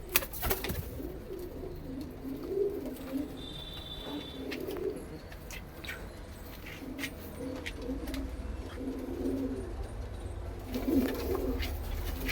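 Panjabi chatri pigeons coo in soft, low repeated phrases, several birds overlapping at close range over a steady background hum, with a few faint chirps scattered through.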